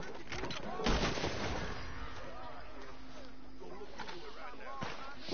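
Gunfire in the western shooter Red Dead Redemption 2, with a loud blast near the start followed by scattered sharper shots, under game ambience and people talking throughout.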